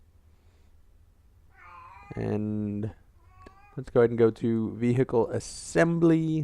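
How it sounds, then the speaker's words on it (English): A pet cat meows loudly and repeatedly close by, several drawn-out cries in a row mixed with someone talking over them. "I do apologize, that's still my cat in the background."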